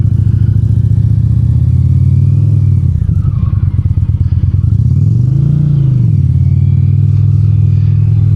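A 2025 Indian PowerPlus Limited motorcycle engine rumbles loudly and steadily, with a brief rev and some popping from the stock exhaust partway through, up close.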